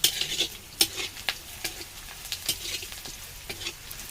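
Onions and bay leaves frying in oil in a pot over a village wood-fired stove, stirred with a spoon: steady bright sizzle punctuated by sharp clinking scrapes every half second or so, close and moderately loud, no talking.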